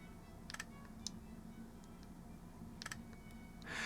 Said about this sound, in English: when you click the shutter sound is very quiet